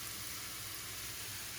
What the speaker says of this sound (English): Just keep on frying that goodness.